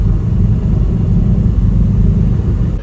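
A Mercedes G-Wagon rumbles past on a snowy mountain road in Obertauern, Austria, a loud, steady low engine drone lasting a few seconds, heard close with no talking.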